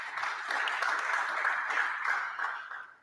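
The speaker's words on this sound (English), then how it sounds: "Let's give him another applause" An audience at a university research conference applauds in a moderate, fairly distant round of clapping that holds steady and then tapers off toward the end.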